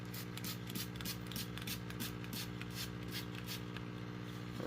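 A spray bottle mists water onto a mushroom-growing screen, a series of short rhythmic hissing squirts repeating about every third of a second, close and fairly quiet over a steady low electrical hum.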